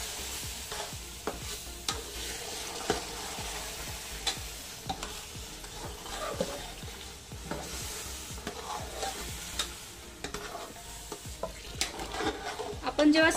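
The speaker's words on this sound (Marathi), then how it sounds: "आता जे राहिलेलं दूध होतं ते ह्या भांड्यामध्ये टाकते" Semolina being cooked in a pot as milk is added a little at a time, a steady soft sizzle with repeated clinks and scrapes of a spoon stirring, close up and without talk.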